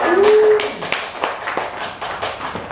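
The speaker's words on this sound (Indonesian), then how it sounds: "Berikan aplaus buat yang presentasi ya" A classroom of students claps for classmates who just presented, a brief scattered round of applause with a short voice at the start.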